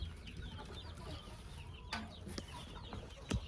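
Young pullet chicks in a backyard chicken coop, making soft, high peeps and clucks scattered throughout, faint and fairly close, with a couple of louder bumps toward the end.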